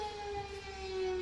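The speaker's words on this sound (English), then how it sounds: "I think they're just testing their sirens" Outdoor sirens sounding during a test, a steady sustained wailing tone heard from a distance over low background rumble, with no talking.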